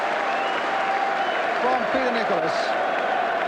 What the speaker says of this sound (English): the Manchester United players, in fact, are applauding Bailey for a truly brilliant save